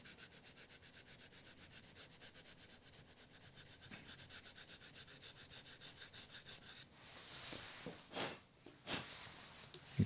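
Steady close rasping of sandpaper on a 1/24 scale model car side skirt, a fast, even back-and-forth rubbing that turns to a few louder, rougher strokes near the end.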